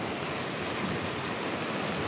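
Floodwater surges fast and heavy through a swollen stream channel at Sai Nagar, Anantapur, during rain, giving a steady, dense, close rushing roar with no gaps or voices.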